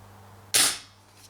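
A single sharp shot from a Marlin 6mm CO2 revolver, a loud crisp crack with a brief hissing decay, over a quiet indoor hum.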